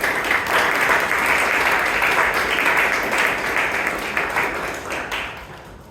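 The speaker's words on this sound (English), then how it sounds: "let's give Toastmaster Jewel and Toastmaster Aswathy a round of applause" Applause at a Bangalore Toastmasters club meeting for two Toastmasters, Jewel and Aswathy: a full room clapping steadily and vigorously for several seconds before the sound tapers off at the close.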